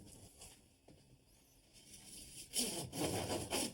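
A hand saw cuts through a plastic vent pipe near a utility sink, rising partway through into loud, steady rasping strokes close by.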